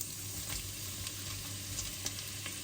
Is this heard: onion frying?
yes